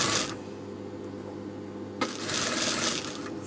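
A sewing machine top stitching fabric, its even mechanical whir running close and steady, with a brief shuffle of cloth partway through and no talk.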